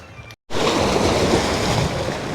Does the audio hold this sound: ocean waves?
yes